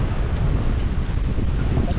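Strong wind roars and buffets the microphone continuously, a loud rumbling gust with no voices.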